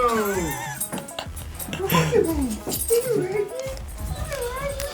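Outdoors on a hiking trail, a dog gives soft, high whimpers and yips, blended with people talking nearby and steady background noise throughout.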